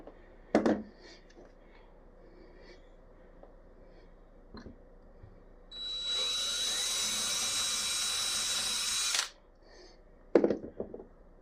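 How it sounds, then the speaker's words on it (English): A steady power drill whirs into a door for about three seconds, sharp knocks and clatter before and after, with no talking. "be sure do not drill completely through the door."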